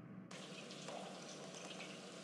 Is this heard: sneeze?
no